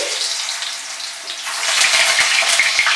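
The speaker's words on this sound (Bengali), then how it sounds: "আলুগুলোকে ভেজে নিচ্ছি।" Potato pieces for a Bengali mutton curry frying in hot mustard oil: a loud, steady sizzle that swells partway through, flecked with crackling pops, with no voices.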